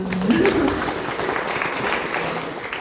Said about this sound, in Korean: 박수 한번 주세요